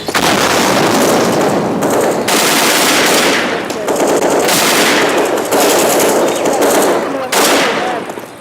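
Loud, close bursts of automatic gunfire from a shooter video game in an esports championship match come in several sustained volleys separated by brief pauses, with casters talking underneath.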